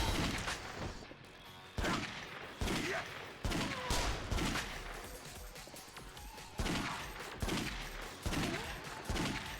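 Gunfire in the video game Yakuza Dead Souls rings out as a rapid run of loud, sharp shots, each with a short decaying tail, coming in bursts over a dense battle background.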